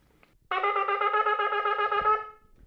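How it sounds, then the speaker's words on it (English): A shofar sounds a teruah call, one bright, steady blast of nearly two seconds with a rapid pulsing wobble inside it, then stops, with near silence before and after. "When it comes to a trua, so we do individual sounds like this."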